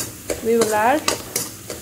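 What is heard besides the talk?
oil frying in pan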